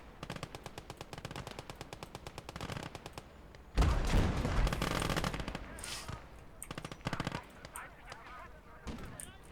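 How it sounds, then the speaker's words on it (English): Machine-gun fire in the WWII strategy game Call to Arms: Gates of Hell: long rapid rattling bursts of close automatic fire, broken by a heavy blast and then further staccato volleys. "Yeah, it's a machine gun emplacement."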